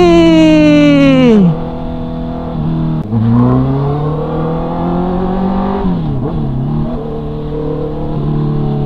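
A 2022 Honda CB650R motorcycle with a tail tidy fitted, riding a highway: loud, close engine whine that drops sharply as gears change, then climbs again in rising revving pulls.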